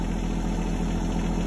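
A tractor engine runs at a steady idle-like drone while leveling garden dirt for a raised bed, heard close and constant over a short stretch with no voices.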